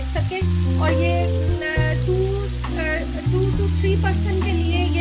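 Aloo baingan of potato and eggplant with tomato fries in a pan, a steady close sizzle running throughout with a few brief dips, no talking.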